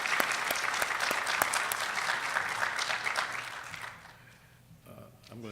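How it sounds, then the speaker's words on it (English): An audience at a Black History program breaks into a round of applause, dense clapping that holds steady for several seconds and then fades, with a voice starting to speak at the end. "Can we get another round of applause for Dr. Hemphill?"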